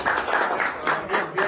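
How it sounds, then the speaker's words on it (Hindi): Hands clapping in a quick burst at a family birthday surprise party, with voices talking over the applause throughout. "तालियां बजाओ"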